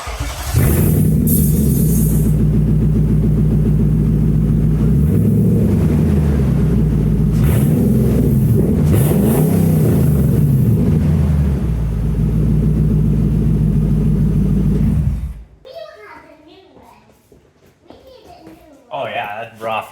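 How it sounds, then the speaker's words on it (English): A car engine runs with its muffler pulled off and the factory cats left in, so there is no exhaust. It idles loud and raw with a deep rumble for about fifteen seconds, then shuts off, and voices follow in the quiet. "I just thought we had to start it quick with no exhaust on."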